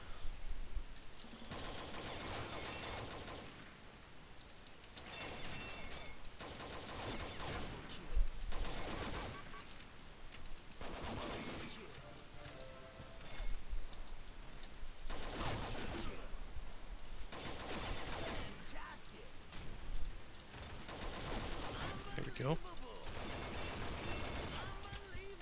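Rapid automatic gunfire bursts and scattered shots from the Combat Arms shooter game, in repeated volleys throughout the clip, mixed with other game noise.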